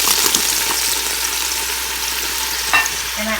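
Food sizzles and fries steadily in a pan with fish sauce added, a continuous close hiss with faint stirring scrapes and a brief clatter near the end.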